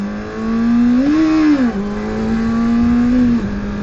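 Riding a motorcycle among a group of cars on a simulated freeway produces a loud, steady engine drone. Its pitch swells and dips briefly as the speed shifts, under a constant rush of road and wind noise.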